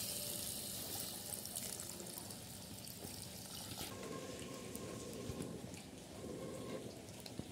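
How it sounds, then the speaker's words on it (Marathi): Water is poured into a pot of mango raita being cooked at home, giving a steady, close splashing pour that runs throughout with a continuous hiss and no talk. "याच्यामध्ये आता हे पाणी टाकूया"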